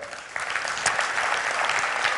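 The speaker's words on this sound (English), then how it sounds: "Give yourself a clap." An audience at a retailers' CEO night event claps together, a dense burst of applause that swells after a brief quiet start and stays steady and fairly loud.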